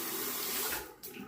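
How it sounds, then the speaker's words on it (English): A shaving brush is rinsed under a running tap, a steady close splash of water that stops abruptly near the end before a brief resumption. "I'm just going to rinse this brush so that you can see it"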